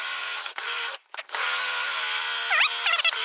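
A power drill bores into wood for a garden trellis, a sustained loud whine with a brief stop and restart partway through, then rising squeals as the bit works through the timber near the listener.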